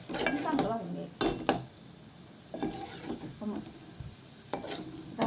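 Masala being stirred and roasted in a pan over low gas for misal, with a spoon repeatedly scraping and clinking against the metal in irregular bursts, close and moderately loud, with faint sizzling between strokes.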